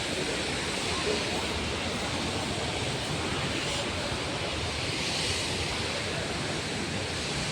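A waterfall rushes in a constant, dense roar, close and loud, with no break or change throughout.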